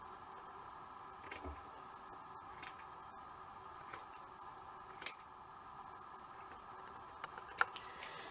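Scissors trimming embroidered tulle for a wall hanging, with a few soft, sparse snips heard close against a steady background hum and no talking.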